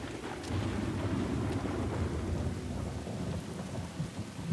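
Thunderstorm with rolling thunder and steady rain in the video game Uncharted: The Lost Legacy, a continuous low rumble with hissing rainfall, moderately loud and unbroken, with no talk.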